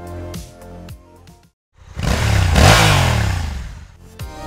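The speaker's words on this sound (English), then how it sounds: "The familiar rumble and throttle response are preserved, offering a riding experience similar to gasoline-powered bikes but with near-zero emissions." Kawasaki Ninja H2 HySE, a hydrogen-combustion supercharged motorcycle, idles with a low rumble, cuts out briefly, then revs hard in a rising and falling roar before settling back, loud and close.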